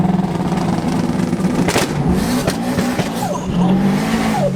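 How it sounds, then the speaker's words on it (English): A 650 WHP Subaru STI launches out of a parking lot. The engine roars loud and close under hard revving, and the tires squeal and chirp as it accelerates away. "You want to launch out of the parking lot?"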